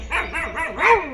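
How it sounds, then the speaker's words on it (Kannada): A dog in a neighbouring building barks a few times in quick succession, fairly close and moderately loud, with a whiny, yelping edge. "ಅಲ್ಲಿ ನಾಯಿ ಬೊಗಳುತ್ತಿದೆ ನೋಡಿ,"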